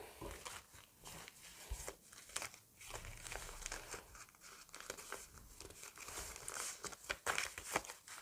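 A plastic packet crinkles and rustles steadily for several seconds, close by, with irregular crackly bursts and no talking.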